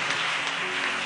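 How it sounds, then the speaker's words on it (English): A church congregation claps together in a steady, dense patter of hands, fairly faint and brief, with no voices standing out. "clap for the Holy Spirit for this evening"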